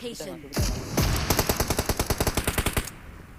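Automatic gunfire in the mobile battle-royale game PUBG Mobile rattles off in a rapid, evenly spaced burst of about fifteen loud shots, preceded by a couple of heavier booms and brief game sounds.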